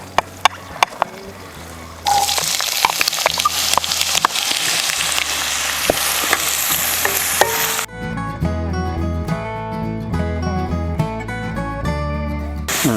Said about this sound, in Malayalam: സബോള ഇട്ട് വഴറ്റാം.